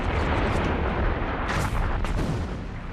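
World War One artillery shells firing and a bomb bursting, heard as a sustained, dense rumble of distant booms with a couple of louder bursts standing out partway through.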